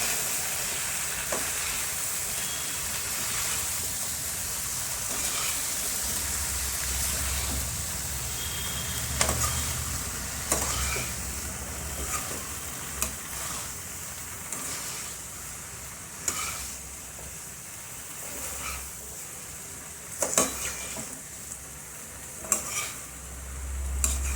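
Arbi and brinjal curry stirred and mixed in a pan over heat: a continuous soft sizzle punctuated by repeated spoon scrapes and knocks against the pan.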